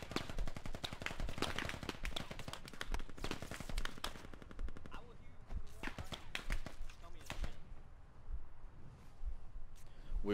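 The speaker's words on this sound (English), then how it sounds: "they're shooting us from the wall" Automatic gunfire from the video game Squad, during a defense of Yehorivka Airfield, rattles in rapid bursts, then thins into scattered single shots and more distant cracks.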